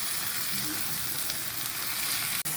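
Onions sizzle in hot oil in a pan for a homestyle chicken salan, making a loud, dense and continuous frying hiss up close. A faint scrape sounds near the end, and no one talks.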